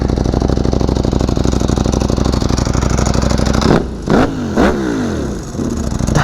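A Ducati Panigale V4 Superleggera superbike with very low miles and a possible soft rev limiter holds a loud, steady engine drone, then gives two or three sharp throttle blips that rise and fall.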